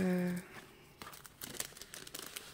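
A creased diamond painting canvas is being unfolded. It makes faint, close crinkling and rustling over about two seconds, with a brief tonal voice-like sound at the start.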